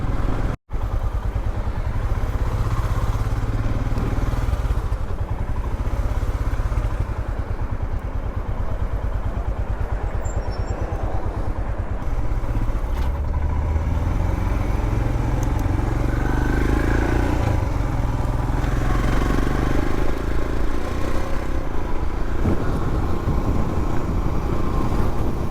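Royal Enfield Himalayan motorcycle riding along the road, a continuous engine drone with heavy low rumble and wind noise, steady and close throughout with no talking.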